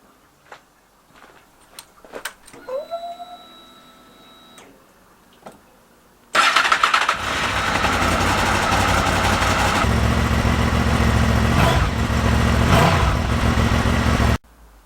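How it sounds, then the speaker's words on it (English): A few clicks and a whirring starter, then a Honda VFR800 V-TEC V4 motorcycle with a modified exhaust catches and settles into a loud, steady idle close by. "We'll start it up and have a listen to the exhaust note"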